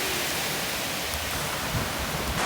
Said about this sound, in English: It's bloody raining.